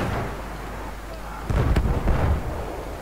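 Explosions from Battlefield 1 gameplay, a thick low booming burst rolling in midway over steady background rumble, with a couple of sharp cracks near the peak.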